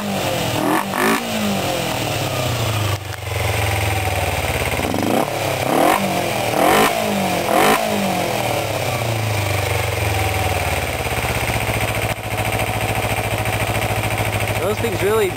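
A Kawasaki Ninja 250 motorcycle with pod air filters idles loudly and steadily up close, with a few brief throttle blips rising above the rumble.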